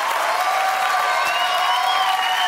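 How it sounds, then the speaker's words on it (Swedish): A large audience at the final of a televised ice skating show applauds a skating pair, a loud, dense and continuous wall of clapping with faint cheering mixed in throughout. "En stor applåd till Jesper och Alexandra!"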